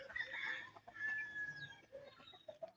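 Chickens in a small backyard coop make soft clucks and brief chirping calls close by, quiet and intermittent, with a thin sustained note in the middle.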